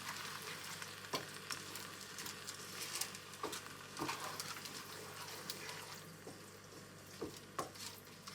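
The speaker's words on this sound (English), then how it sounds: "2 tins of tomato. Get those in. Give it a good stir around." Tinned tomatoes being stirred into chili chorizo pearl barley in a pan on a plug-in hob, with a steady close sizzle and soft wet scrapes and knocks of the spoon at irregular intervals, no talking.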